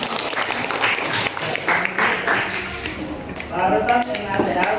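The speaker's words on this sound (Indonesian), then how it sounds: "Kita berikan aplaus dulu." A classroom gives a short round of applause, scattered hand clapping in bursts mixed with talking voices.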